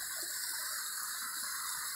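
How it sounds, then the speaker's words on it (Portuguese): A waterfall in the forest at the Xerém reservoir dam in Brazil pours in a steady, even rush of water that fills the whole clip with no pauses or voices. "Cachoeira aqui da mata aqui."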